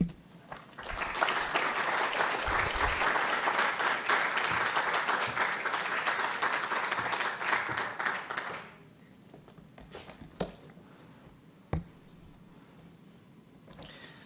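An audience at the National Archives breaks into loud, sustained applause welcoming a speaker. The clapping lasts about eight seconds, then stops abruptly, leaving a quiet room with a few isolated knocks and shuffles.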